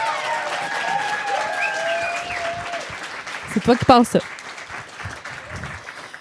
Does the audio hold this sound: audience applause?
yes